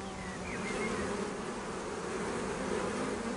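Bees buzzing on Mount Athos, a dense, continuous hum of many insects close by, steady in volume throughout, with no voices.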